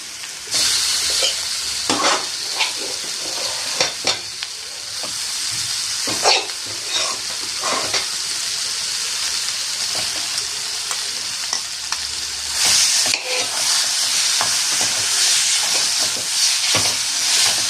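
Mashed eggplant is stirred and fried in a pan over low flame, giving a close, steady sizzle and hiss. Repeated scrapes and knocks of the spoon against the pan cut through it at irregular intervals.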